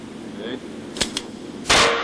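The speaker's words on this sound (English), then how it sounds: "The final task requires the officer to fully extend his or her arm when firing the weapon." A police officer fires a handgun during a work performance test, giving two sharp close reports in quick succession and then a louder, longer blast near the end.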